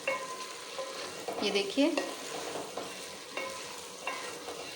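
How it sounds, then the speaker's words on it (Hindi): Tinda and chana dal masala is stirred and fried in a pan, giving a soft steady sizzle with scraping spatula strokes that grow busier midway, while a voice speaks briefly over it. "इसकी अब हम भुनाई करेंगे।"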